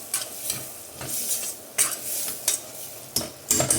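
Onions frying and being stirred in a pan for a country chicken curry: steady sizzle throughout, punctuated by repeated sharp scraping strokes of a spoon against the pan roughly every half second to second, close and alone with no talk.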